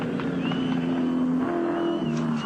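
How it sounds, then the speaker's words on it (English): A touring race car on the final lap at Bathurst in 1986 drones loudly past, its engine holding a steady high note with a shift in pitch midway, amid faint crowd noise. "Gricey coming across the top, out of Castrol Curve, down to the S's"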